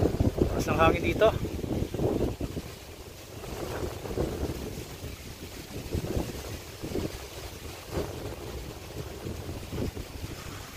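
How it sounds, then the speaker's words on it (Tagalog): Strong outdoor wind gusts buffet the microphone continuously near a bamboo pole used for gathering buri palm tuba, a low rumbling roar that swells and eases throughout with a brief higher tone early on. "taas ng hangin dito."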